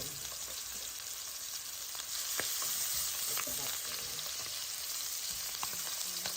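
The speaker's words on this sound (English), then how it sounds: "So we have the chicken in the pan." Chicken pieces fry in a pan, giving a dense, steady close sizzle with occasional crackles and pops throughout, and no voices over it.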